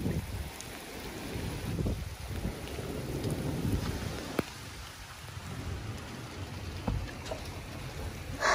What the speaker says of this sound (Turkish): Çok fena yağıyor Cihan.